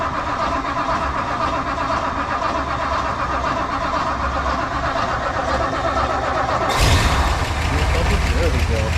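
An old vehicle's engine runs steadily, then catches with a louder, fuller roar near the end after turning over; no speech is heard.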